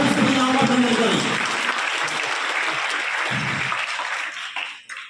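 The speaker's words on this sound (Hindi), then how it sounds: "एक बार जोरदार तालियों से दिया भैयाओं का अभिनंदन करें।" Loud audience applause at a school annual exam results ceremony at Saraswati Vidya Mandir Intermediate College, a dense sustained burst of clapping that gradually thins out and fades toward the end.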